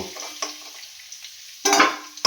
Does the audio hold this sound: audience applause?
no